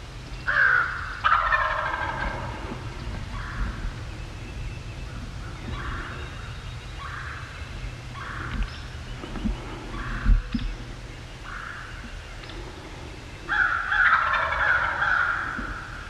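Wild turkeys gobble during a spring turkey hunt in Illinois, with several loud rattling gobbles at the start and end and fainter, more distant calls repeating in between.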